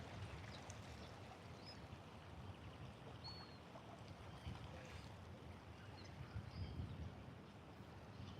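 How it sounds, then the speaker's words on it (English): Roar of an incoming tide on a beach along Australia's east coast: a steady, broad wash of surf rumble with slow swells in loudness, continuous throughout with no voices. "you can actually hear the roar of the tide coming in"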